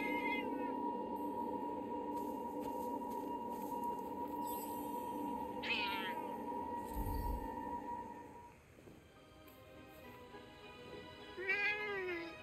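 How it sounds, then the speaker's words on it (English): A cat in the video game Forspoken, in the Jardín del Agua area, gives a few short, clear meows over a steady hum of game music and ambience, with a quieter rodent-like squeak late on. "I bet one of those cool cats is nearby."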